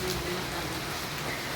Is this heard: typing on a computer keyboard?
no